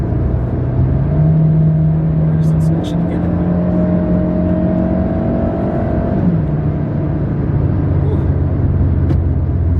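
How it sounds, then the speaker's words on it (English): A 2019 Hyundai Sonata Sport accelerating, heard from inside as a steady engine and road rumble with a rising tone that climbs and then drops back, with light talk over it. "let me see if I can give it a little bit more gas."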